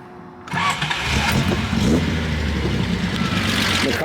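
A Datsun 240Z with a 6-into-1 exhaust and an electric fuel pump cranks and catches, then settles into a loud, steady, slightly low warm idle. The exhaust note is full and throaty, heard close up.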